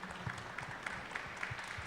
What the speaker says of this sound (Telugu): చప్పట్లు కొట్టాలిగా.